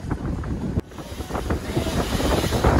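Wind of roughly 12 to 15 knots blowing straight at a boat crossing from Cabo Frio to Búzios, heavy rumbling buffeting against the microphone with water rushing beneath, loud and continuous, no talk.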